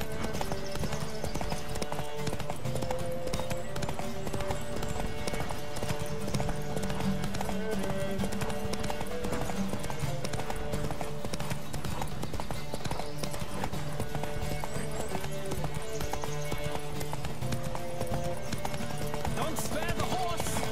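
A horse gallops during a race in the video game The Witcher 3: Wild Hunt, a rapid, steady clip-clop of hooves that runs without pause beneath game music.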